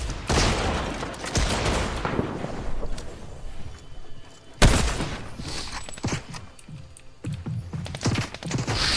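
Sniper rifle shots ring out in Fortnite gameplay, with several sharp, loud cracks standing out over a busy, constant wash of game sounds and effects, one especially strong blast near the middle.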